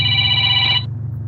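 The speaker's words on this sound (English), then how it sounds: "Let me get this phone call." A telephone rings loudly and close with a steady electronic trill that cuts off abruptly partway through, leaving a low room hum.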